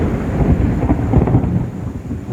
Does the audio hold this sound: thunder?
yes